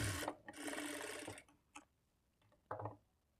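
A sewing machine stitches blouse cloth in a short burst of about a second and a half, close and fairly quiet, followed by a few faint clicks and a brief rub.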